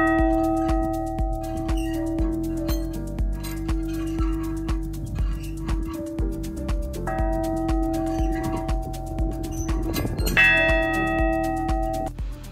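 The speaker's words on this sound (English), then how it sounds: "Ring the bell." A bell rung by hand at a historic, reputedly haunted site in Yuma, Arizona: repeated metallic strikes with long, overlapping ringing tones that sustain close and fairly loud, with no talking.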